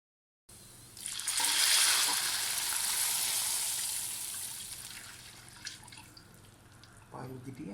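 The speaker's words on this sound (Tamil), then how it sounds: "அடுத்ததாக இதிலேயே ஒரு 1/2 லிட்டர் திக்கான பால் சேர்க்க போகிறோம்." Half a litre of thick milk pours into a pan for double ka meetha, a steady hissing splash that swells then gradually fades over several seconds, close and fairly quiet.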